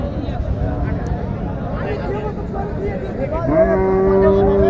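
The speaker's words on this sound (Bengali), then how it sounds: "এখানে একটি নেপালি গাবি গরু দেখছি আমি" A Nepali cow lets out a long, deep, loud moo close by at a cattle market in Naogaon, rising out of a noisy outdoor crowd with voices murmuring throughout.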